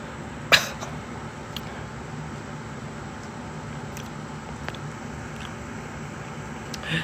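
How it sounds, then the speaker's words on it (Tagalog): A single sharp cough from someone choking on their own saliva bursts out near the start, followed by a quiet room with a few faint clicks and a small stir at the end. "Nasamid ako sa laway ko."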